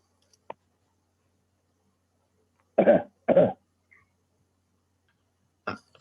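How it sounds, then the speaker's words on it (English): Two sharp coughs in quick succession, close and loud, with a faint click before them and a short throat sound near the end, otherwise quiet. "Yes, a cough."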